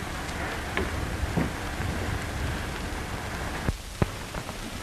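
Steady rain falls outside in a 1935 film scene, a continuous hiss of drops on surfaces with a few louder splashes or taps near the end and no one speaking.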